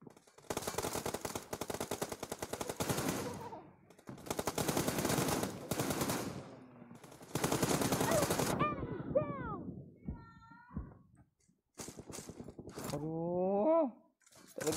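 Heavy automatic gunfire rattles in long dense bursts in PUBG Mobile, then gives way to shorter shots and sweeping chirps, with a voice talking over parts of it.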